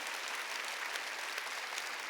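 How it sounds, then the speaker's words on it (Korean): A church congregation at a Wednesday worship service breaks into steady, dense applause, many hands clapping together at a moderate distance with no pauses. "깨달은 사람만 박수 치라."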